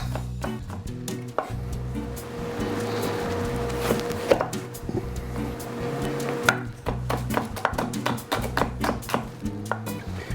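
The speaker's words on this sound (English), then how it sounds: "I'm also going to cut up this half onion" Half an onion chopped with a knife on a wooden board, rapid steady knocks of the blade throughout, close and clear, with no talking.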